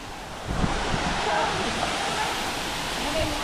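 A waterfall roars as a steady broadband wash of falling water, close and continuous throughout, with a slight swell after the first half second.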